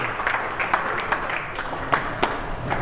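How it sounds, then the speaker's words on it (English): Workshop participants at a Lean Startup Machine session clapping for themselves, a fairly small group producing uneven applause with a few sharper individual claps standing out, moderately close, with faint voices underneath. "And give yourselves a round of applause."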